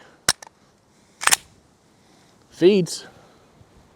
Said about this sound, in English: Wow, I'm shooting very low left.